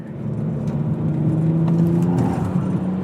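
A 2000 BMW 3 Series E46 accelerating, its engine note rising in a steady, loud drone heard from inside the car, with road and tyre rumble beneath and no talking.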